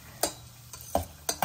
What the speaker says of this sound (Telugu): ఇప్పుడు ఇందులో మనం ఫస్ట్ మన కాజు వేసి వేయించి తీసుకుందాం